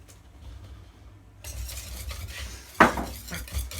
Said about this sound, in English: I'm not whisking it too hard, I'm just gently sort of whisking it